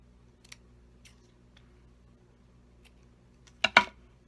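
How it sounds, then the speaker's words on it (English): Scissors snip through ribbon tails in a few faint, sparse clicks, then a sharper, louder double snip near the end over a quiet background. "then I'm going to cut my tails off."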